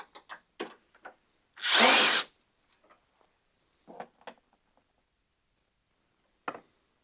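A tool works the 10 mm bolts on the battery bracket of a 1999–2006 Chevy/GMC GMT-800 truck: a short, loud whirring burst of about half a second, with sparse dry clicks and ticks before and after in an otherwise quiet space.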